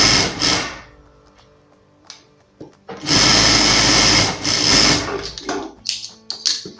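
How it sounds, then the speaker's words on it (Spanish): A straight-stitch sewing machine runs a hem seam on fabric, starting with a short burst, then a steady loud whirring run of about two seconds, followed by clicks and brief restarts. "pasamos sencillamente una costura con la máquina recta"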